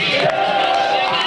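Large protest crowd in Tahrir Square, Egypt, a continuous loud roar of many voices with shouts and chanting, dense and steady throughout.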